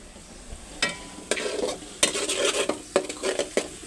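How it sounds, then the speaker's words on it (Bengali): Onions browning in a pan for chicken curry sizzle under repeated sharp stirring scrapes and clinks of a utensil against the pan, close and fairly loud, with no voices. "মুরগির জন্য পেঁয়াজ আগে ভালো করে লাল করে ভেজে নিতেছি।"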